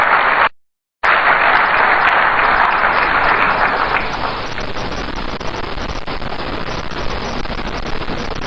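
Loud, steady applause from a crowd in Accra welcoming Dr. Zaneto Rawlings, continuous after a brief dropout near the start.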